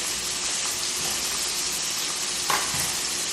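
Burgers frying in a pan, with a dense, steady sizzle and hiss held close and even for a few seconds, plus one brief bump of pan movement near the end.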